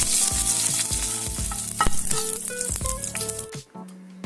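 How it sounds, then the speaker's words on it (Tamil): Hot oil sizzles and crackles steadily with sharp popping bursts as mustard seeds and curry leaves hit the pan, with a few clinks along the way. "இப்போ எண்ணெயை காய வச்சு கடுகு, கருவேப்பிலை,"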